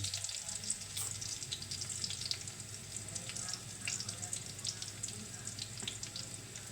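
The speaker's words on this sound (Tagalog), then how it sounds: "Natin mag brown ng ating bawang" Garlic fries in hot oil in a home kitchen, producing a continuous soft, even sizzle with faint crackles throughout.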